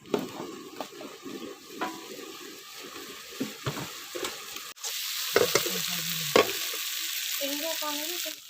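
Wild jungle mushrooms from Keonjhar fry in a pan with a steady crackling sizzle. It swells into a brighter, louder hiss midway, with occasional sharper pops, close and with no talk.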